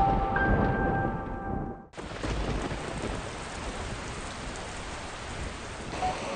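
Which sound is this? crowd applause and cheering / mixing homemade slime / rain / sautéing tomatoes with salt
rain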